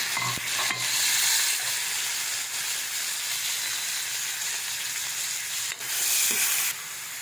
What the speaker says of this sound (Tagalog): pagsabayin na natin yung sibuyas at kamatis